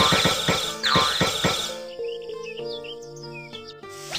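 Cartoon birds on an animated panda farm chirp and tweet over light, bouncy background music, with quick bright calls scattered throughout.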